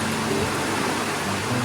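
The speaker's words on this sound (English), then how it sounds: "In the meantime, we finally had rain." Steady rain falls across a garden, making a dense, even hiss that stays constant throughout with no voices.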